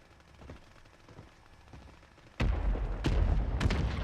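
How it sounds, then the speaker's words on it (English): Mortar strike explosions in a shooter video game, a few heavy booming blasts landing close together after a quiet lead-in, loud and thumping. "Mortar strike inbound."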